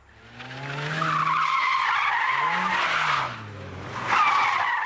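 A stunt driver flings a Nissan 350Z through a handbrake turn, its tyres skidding and squealing loudly and continuously for several seconds, with the engine note rising and falling beneath.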